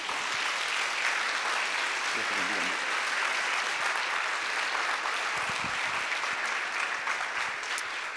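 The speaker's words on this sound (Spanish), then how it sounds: "Démosle un aplauso a nuestro Dios." A church congregation claps through the whole stretch of a Spanish-language service in loud, sustained, dense applause that never breaks.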